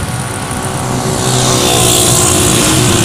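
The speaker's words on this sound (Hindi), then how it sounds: "मरवा मोटरसाइकिल चला रही है मरवा एक्सलेटर दो तो" Motorcycle engine revving steadily as the throttle is twisted, a loud close droning roar that rises in pitch and intensity partway through.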